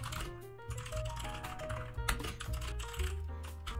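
Keys on a computer keyboard clatter in quick, light taps over faint background music during a game-development tutorial, close and quiet.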